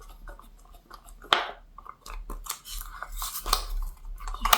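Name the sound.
stirring two-part silicone prosthetic components together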